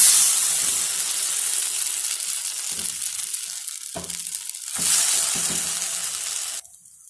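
Chettinad marakkarika dosa sizzles in oil on a pan over medium flame, a loud steady hiss and crackle that dips briefly twice, then drops away near the end.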